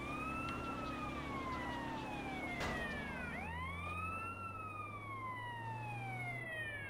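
A police motorcycle siren in GTA San Andreas wails in rising and falling sweeps over continuous engine and traffic rumble. The pitch drops sharply partway through as it passes.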